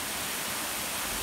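Waterfall in Gleniffer Braes Country Park, a steady broadband rush of falling water, loud and close, unbroken throughout with no voices.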